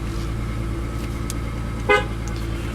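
Steady low idle rumble from a 2018 Lexus GS350 with a 3.5 liter V6, heard close and even throughout, with a brief horn-like toot near the two-second mark.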